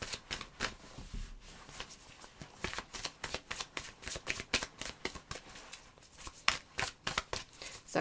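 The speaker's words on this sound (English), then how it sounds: "Sorry if you hear a lot of rustling. I'm wearing a windbreaker because it's really cold." Crisp, repeated rustling of a windbreaker jacket worn by someone in a cold setting, a steady run of close, dry swishes and crinkles with no talking.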